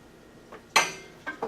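Metal bolts being installed on a Dragonfire rear bumper for a 2018 Polaris RZR XP1000: a short sharp metallic clink followed by a lingering rattle, then two smaller clinks close by, with no talking.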